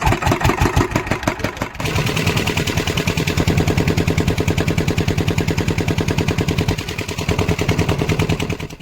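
A small water-pump engine used while fishing at a river starts up and settles into a steady, rapid mid-pitched chugging that runs loud and close without pause.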